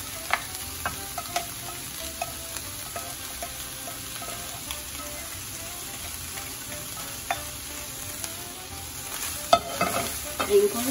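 Ground turkey and green beans sizzle steadily in a pan while a utensil scrapes and stirs them, sharp clicks and scrapes recurring near the close over a constant frying hiss, with no talking.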